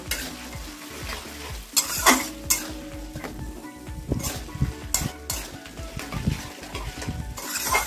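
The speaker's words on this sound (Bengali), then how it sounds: "ছোলা কটা একটু কষিয়ে নিই" Chickpeas fry in a pan while being stirred, a continuous sizzle broken by frequent scraping strokes and metallic spoon knocks against the pan, loud and close with no talking.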